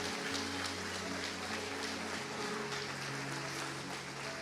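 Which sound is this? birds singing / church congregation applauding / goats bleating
church congregation applauding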